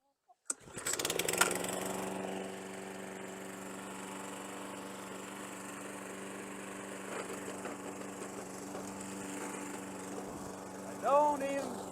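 Lawn mower engine starts and runs steadily in high grass, a close, constant droning hum after a sharp startup burst, with faint chicken noises near the end.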